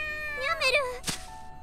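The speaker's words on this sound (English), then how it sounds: "A light brown cat, spotted with whites, emerges from a nearby clump of bushes." A cat in the visual novel The Fruit of Grisaia gives a short, wavering meow, followed by a brief breathy burst.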